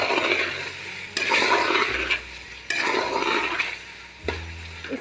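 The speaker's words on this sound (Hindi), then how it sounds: "टमाटर ऐड कर देंगे। और अच्छे से मिक्स करके" Tomatoes stirred into meat and spinach cooking in a pot for deghi palak gosht, with wet scraping and sizzling in several loud bursts, sitting close and alone without talk.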